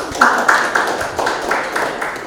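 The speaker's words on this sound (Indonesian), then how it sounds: "Tepuk tangan" A small group claps hands in a university teaching session, a short burst of several close, rhythmic claps over about two seconds, with faint voice underneath.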